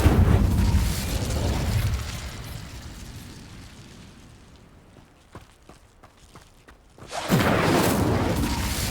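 In Hogwarts Legacy, casting the Incendio fire spell sets off a loud fiery burst and roar that fades into a quieter stretch of scattered pops and steps, then another strong whoosh of flame flares up.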